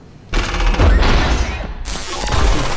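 Rapid, loud gunfire from the Black Future '88 video game starts after a short quiet lead-in and carries on as dense, sustained bursts with heavy booming low end, briefly thinning before another strong volley.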